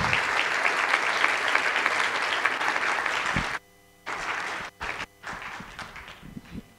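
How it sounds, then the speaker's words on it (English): Audience applause at a food security symposium, steady and full for over three seconds, then broken into short bursts and scattered claps with brief gaps. "Let's give her another round of applause."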